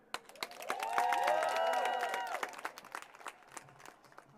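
A crowd at an outdoor Lincoln Memorial voting-rights rally breaks into sustained applause and cheering, swelling early and then thinning into scattered claps, with a voice carrying over the noise.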